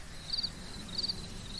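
Crickets chirp at night in a grassy wooded area, two short pulsing bursts rising faintly above a low, steady background hum.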